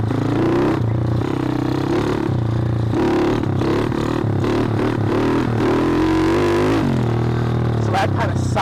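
A 2013 custom SSR 110cc manual pit bike with an FMF pipe revs hard while climbing a hill, its buzzing engine note rising and falling through repeated throttle blips, close and loud throughout.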